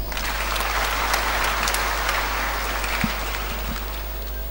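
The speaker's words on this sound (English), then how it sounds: "A round of applause." A congregation claps in a steady round of applause during a Lenten church teaching, dense and even, with a constant low hum underneath and one brief thump.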